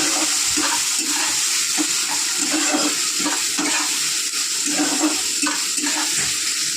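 Sliced onion and tomato frying in a pan for egg curry, a steady close hiss with watery bubbling and occasional soft stirring scrapes throughout.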